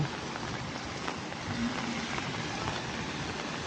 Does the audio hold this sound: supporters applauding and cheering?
no